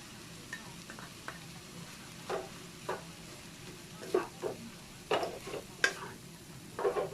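Cooked rice added to a pan with kimchi and carrot for Thai-style kimchi fried rice, with a soft background sizzle and intermittent spatula scrapes and taps that grow busier toward the end.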